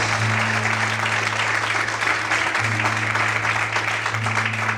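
Evening church worship, with a congregation applauding in a dense, continuous wash of clapping over a held keyboard drone, loud and steady throughout.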